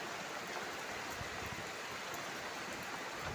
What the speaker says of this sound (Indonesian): Semoga hujan ini membawa berkah.